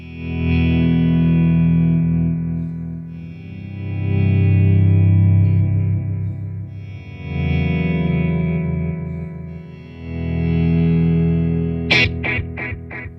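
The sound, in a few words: guitar chords through long delay pedal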